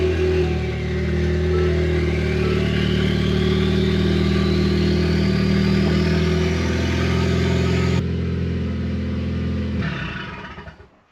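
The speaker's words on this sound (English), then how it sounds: "let's start it up, run it for a few minutes" A Ford Focus ST engine runs steadily at close range, its pitch rising slowly, then it cuts off and the sound fades out in the last seconds; no oil pressure building.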